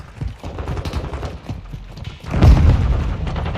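A grenade explosion in a Call of Duty multiplayer match: scattered gunfire and thuds build to a loud booming blast about two-thirds through, followed by a sustained rumbling burst of combat noise.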